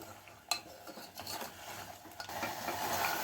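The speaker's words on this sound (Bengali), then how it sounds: "এইবারে একটুখানি বাড়িয়ে দিয়ে আমি সবজিগুলোর সাথেও একটুখানি কষিয়ে নেব মাংসটাকে।" Meat tossed with vegetables in a pot for a beetroot winter stew, with a sharp clatter of a spoon against the pot near the start, then steady stirring and soft scraping building toward a brighter sizzle.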